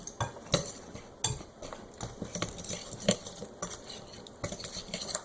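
A spoon scrapes and clinks against a bowl in irregular strokes, close and fairly quiet, as microwave-melted chocolate is stirred.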